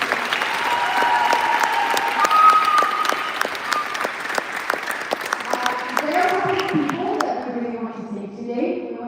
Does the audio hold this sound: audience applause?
yes